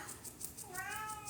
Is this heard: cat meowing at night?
yes